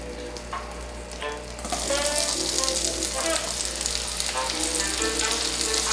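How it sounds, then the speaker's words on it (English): Apples sizzle and crackle in a hot pan with melted butter, the frying growing louder partway through with soft clinks from stirring. "I'm going to start adding the apples to the pan."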